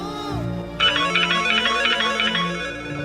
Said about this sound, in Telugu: ఈ టైంలో ఎవరు ఫోన్ చేస్తున్నారా?